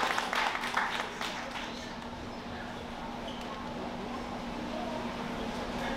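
An audience applauds to welcome a speaker at the opening ceremony of a heritage-roots summer camp in New York, a steady wash of clapping that is fuller at first and then settles into an even roar with a faint hum beneath.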